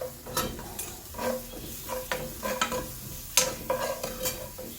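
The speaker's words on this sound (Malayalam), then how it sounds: "കുറച്ച് വെളുത്തുള്ളി ഇട്ടു." Garlic dropped into hot oil with browned onions, a soft continuous sizzle broken by rhythmic stirring scrapes and clicks of a spoon against the pan, close and without speech.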